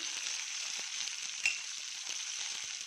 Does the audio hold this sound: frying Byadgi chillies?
yes